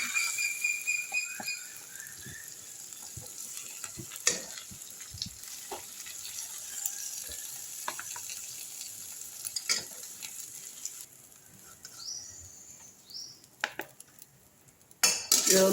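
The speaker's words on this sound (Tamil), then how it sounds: "இந்த மாதிரி எண்ணெய் வந்து பபுள்ஸாக வருது இல்லைங்களா, அப்போ ரெடி ஆகிடுச்சின்னு அர்த்தம்." Egg masala frying in bubbling oil in a pan, a steady soft sizzle with scattered clinks of a spoon against the pan and occasional louder scrapes, close and without talk.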